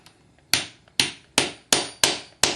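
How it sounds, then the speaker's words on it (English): Six evenly spaced, sharp hammer taps on split back studs, each a crisp metallic strike with a short decaying ring, close and loud with near silence between blows. "you can just actually use the hammer from here"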